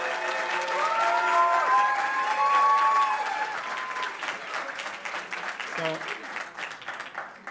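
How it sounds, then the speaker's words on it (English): Audience applause after a team presents a marketing communications campaign, a dense, steady clatter of clapping filling the room, loudest early on with a voice speaking over it, thinning slightly toward the end. "Another round of applause."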